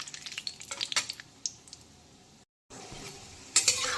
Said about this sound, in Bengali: এখন দিয়ে দিচ্ছি কাজুগুলোকে কিন্তু হালকা বাদামি কালার করে ভেজে তুলে নেব